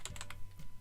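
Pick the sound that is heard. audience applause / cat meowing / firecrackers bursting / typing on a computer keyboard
typing on a computer keyboard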